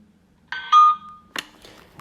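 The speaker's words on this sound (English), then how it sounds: "hold down the button on the front of the device for 15 seconds, and it will go ding dong" A Wopet smart camera with treat dispenser sounds its two-tone ding-dong setup chime, a clear electronic doorbell tone, loud and close, followed by a short click and faint trailing sounds.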